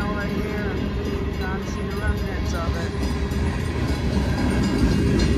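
A CSX freight train carrying old Conrail cars rolls past in the rain, a steady loud rumble and rail clatter that holds throughout, with people talking over it.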